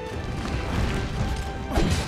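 In Monster Hunter World on PC, during a Nergigante hunt, a monster charges into a mine and sets off a loud crashing explosion over dense game noise, with a heavier burst near the end.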